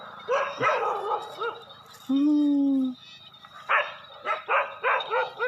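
A pet dog barks in a string of close, sharp yaps, with a drawn-out whine in the middle, mixed in with people talking nearby.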